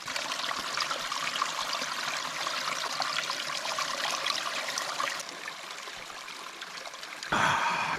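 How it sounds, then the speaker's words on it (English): Water runs steadily from a free refilling station on a mountain trail, a continuous close splashing stream that softens slightly near the end before a brief louder gush. "I found a free water refilling station."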